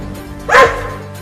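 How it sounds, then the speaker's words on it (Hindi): A dog gives one sharp, loud bark close by, rising out of a quiet room and fading quickly. "लगता है अब ये कुत्ता हमें काटेगा। देख भौंक रहा है।"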